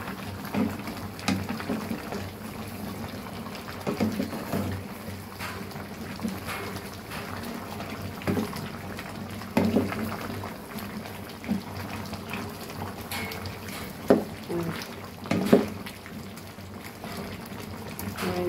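Meat curry with a large marrow bone boils hard in a pot, a continuous low bubbling and churning with scattered pops and soft splashes throughout.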